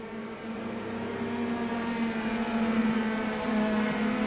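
Indy Pro 2000 open-wheel race cars accelerating on a green-flag restart at USA International in the iRacing simulator; a steady, rising engine whine with a tonal hum builds gradually, fairly quiet and without commentary.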